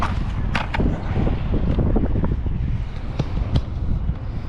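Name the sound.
wind blowing at the seashore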